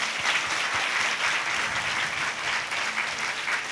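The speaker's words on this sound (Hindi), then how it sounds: "जोर से ताली बजाएंगे इसके लिए।" A church congregation at a Sunday communion service claps loudly and steadily, a dense sustained wash of applause filling the room with no voices over it.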